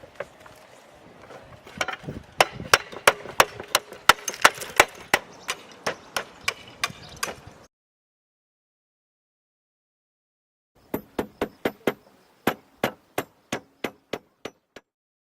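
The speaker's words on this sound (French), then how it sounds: "Procédez à la découpe de vos ardoises en utilisant un marteau de couverture et une enclume de couvreur." Roof slates cut with a roofing hammer on a slater's anvil: a steady run of sharp, close clinking taps, then silence, then a second quicker series of crisp strikes.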